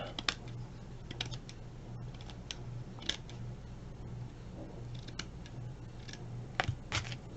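Quiet, close snips and clicks of scissors trimming the outer edge of a paper tag, scattered irregularly over faint background hum.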